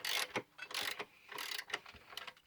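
A wrench ratchets on a 13 mm bolt at the power steering pump of a 2000–2003 Mercury Sable, making a few quiet, irregular clicking and clunking bursts with short gaps between them and no speech.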